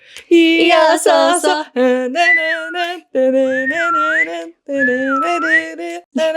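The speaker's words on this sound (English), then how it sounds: "Can you do the whistle, the Okinawan? I just did it." Clear, tuneful whistling in an Okinawan style, close and loud, phrased as four or five sustained melodic bursts with brief pauses between them and no talk over it.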